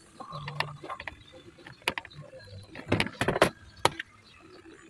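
A twin tub washing machine's spin dryer, jammed and stuck, gives off clunking, ratcheting mechanical knocks and scrapes in irregular bursts, close up and fairly loud.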